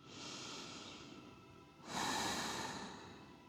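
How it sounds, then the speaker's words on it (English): Slow, deep breaths during a yoga session, a long soft inhale followed by a fuller, louder exhale, close and quiet with no talk. "So let's take 2 more breaths."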